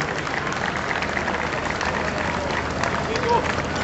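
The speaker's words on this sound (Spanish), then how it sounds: "les vamos a reiterar este fuerte y cariñoso aplauso" Warm, continuous applause from an audience honouring volunteer firefighters of an eighth company, steady and fairly loud with crowd noise mixed in.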